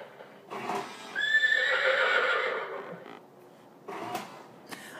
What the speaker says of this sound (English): That is my clock with a horse coming out, which is what you hear that.